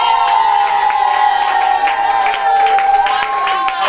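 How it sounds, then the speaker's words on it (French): Guests at a family celebration party clap and cheer as the bride's parents stand. Scattered claps and excited voices rise over steady background music. "j'ai le plaisir d'inviter les parents de Maman Rachel se tenir debout sous nos applaudissements"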